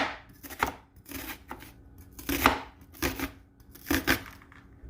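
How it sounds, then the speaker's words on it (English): A knife chops an onion on a board for an Italian tomato sauce: a close series of crisp, uneven chops in bursts, with no talking. "So I'm going to chop an onion"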